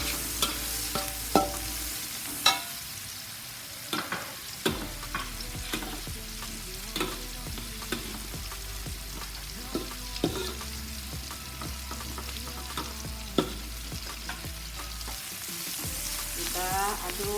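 Garlic and shallots stir-fry in a pan as seasoning for an Indonesian cow-skin oseng, a continuous close sizzle punctuated by repeated scraping and clacking strokes of a spatula.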